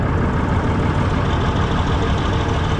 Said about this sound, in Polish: Motor se pracuje.